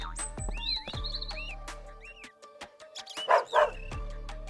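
A police-trained pet dog barks and yips in short bursts up close, with a whimper among the barks and chirpy tones between them.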